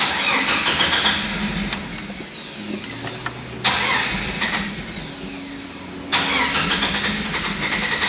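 A 1995 Jeep Wrangler with the 4.0 engine and a low battery cranks on its starter in long, loud grinding runs, broken by two short pauses before the churning resumes.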